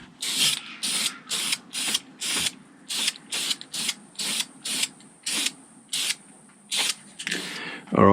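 Spray paint hisses onto Detroit Diesel engine parts, giving them a coat of green in about fourteen short, evenly spaced bursts close by, with quiet pauses between them.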